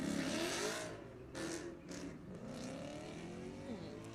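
A 2018 Ford Mustang launches off the line at a drag strip with a loud engine roar that rises in pitch, then fades into a broad rumble as the car pulls away.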